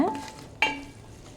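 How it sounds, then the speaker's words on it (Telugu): Spiced chicken pieces being stirred with a ladle in a pan, a couple of short scraping strokes over a faint sizzle, with one sharper clink of the ladle against the pan midway. "బాగా గరిటతో కలుపుకోవాలి మనం వేసిన మసాలా పొడులన్నీ ముక్కకి బాగా పట్టాలన్నమాట"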